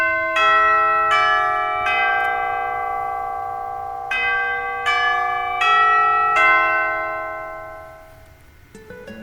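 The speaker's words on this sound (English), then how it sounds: "the bell sounds, signaling the end of study hall." School bell marking the end of study hall rings as a series of clear, struck chime tones, each note ringing out and overlapping the next, loud and resonant before fading away near the end.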